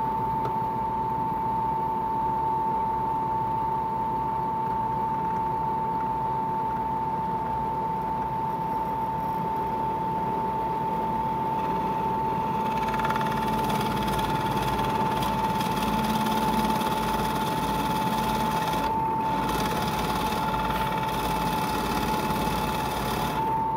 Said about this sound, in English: I'm going to use a 5/8 Forstner bit to open up this area right at the head of the truss rod